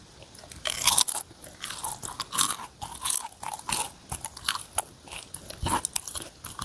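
Close, crisp crunching and biting on a buttery, salted snack flavoured with truffle oil, with rapid irregular chews continuing steadily and no talking.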